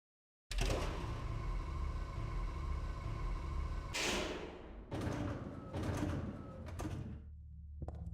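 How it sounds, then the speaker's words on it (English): Elevator doors in the horror video game Silent Hill 3 slide open and shut with a heavy, grinding, monster-like rumble, followed by a few thudding, scraping bursts that taper off. "Even the elevator doors opening and closing sound like some kind of monster."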